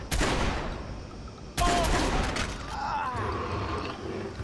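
Gunfire bursts in the Watch Dogs video game, two loud volleys striking near the start and again midway, followed by sustained rattling shots and fainter action noise, with a brief voice exclamation.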